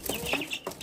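A young cockerel with a small comb, standing upright among backyard poultry, gives a few short, soft clucks close by within a brief moment, with no talking over it.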